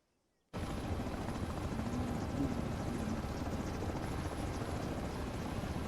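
A helicopter in the ArmA 3 video game starts abruptly after a brief silence and continues as a steady, unbroken rotor and engine drone at a constant level, with no voices over it.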